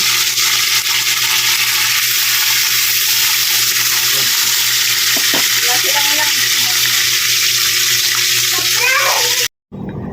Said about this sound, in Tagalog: ganyan lang po yung pagprito ko pag ako po ay nagsisigang sa miso